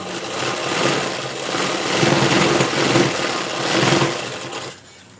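A sewing machine stitches a folded piece for the front part of a size 40 princess-cut blouse, running in loud, close whirring bursts that swell and ease before stopping near the end.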